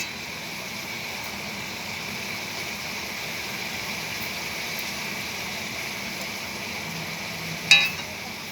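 Cabbage being stirred with a spatula in a hot kadai gives a steady, close sizzle and scrape, with a sharp metallic clatter near the end.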